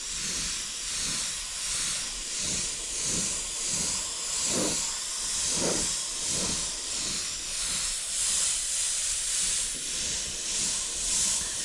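An airbrush sprays paint for sculpted grass in repeated back-and-forth strokes, a steady close airy hiss that swells and eases in a regular rhythm, with no talking.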